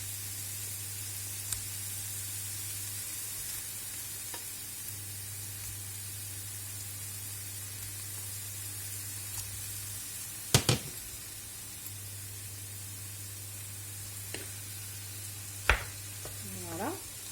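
Tomato flesh sizzles in a hot pan with a steady, soft hiss and a constant low hum, broken by a few sharp clinks and stirring scrapes near the end.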